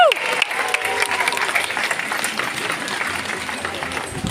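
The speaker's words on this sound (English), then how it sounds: "let's give these two a nice big round of applause" Crowd at a tiger show applauds loudly, a dense sustained wash of clapping with some cheering mixed in, staying strong across the whole stretch.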